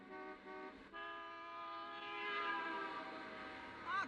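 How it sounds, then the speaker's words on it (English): A vehicle horn sounds in a film: a sustained, fairly faint blaring tone that holds for about four seconds with a short break near the start, alone without talk. "Then he starts honking the horn like a jackass"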